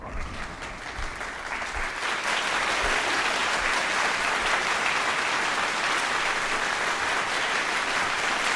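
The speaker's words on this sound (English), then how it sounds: "you know he needs the round of applause" A theatre-sized audience breaks into sustained applause that swells within the first two seconds, then holds at a steady, dense roar of many hands clapping, with no voices rising above it.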